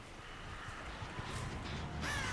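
Crows caw faintly in the Dead by Daylight game world, a few scattered calls over a low ambient hum, the clearest cry arriving near the end.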